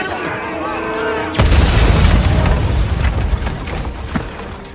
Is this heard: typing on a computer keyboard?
no